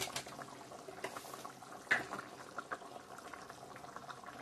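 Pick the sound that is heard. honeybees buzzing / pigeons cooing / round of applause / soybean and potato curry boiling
soybean and potato curry boiling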